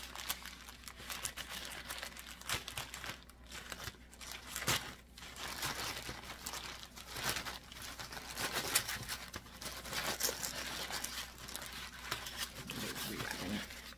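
Continuous crinkling and tearing of plastic packaging up close, irregular rustles and rips lasting many seconds.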